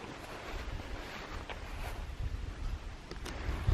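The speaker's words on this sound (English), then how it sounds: "There's a good breeze" Steady wind gusts buffet the microphone outdoors near water, a low rumbling rush with occasional louder puffs and no talking.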